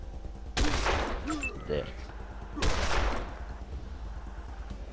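Gunfire in Wasteland 2, two loud separate bursts of shots about two seconds apart, each ringing out and fading, with a brief spoken word between them.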